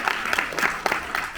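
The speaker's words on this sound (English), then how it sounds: "let's give a big round of applause to Ambaji for such a great moderation which is happening" A crowd gives a round of applause for a moderator at an aviation law panel event, continuous clapping with a few sharper individual claps standing out.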